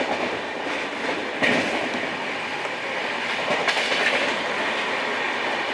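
A Nanded SF Express train on the Amritsar to New Delhi route clatters steadily over the rails, a loud continuous rumble with rhythmic clickety-clack joints and a couple of sharper knocks.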